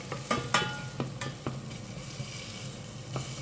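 Ginger fries in a hot pan for chicken tinola, giving a soft steady sizzle broken by a few sharp scrapes and taps of a utensil on the pan.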